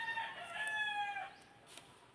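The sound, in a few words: rooster crowing and chickens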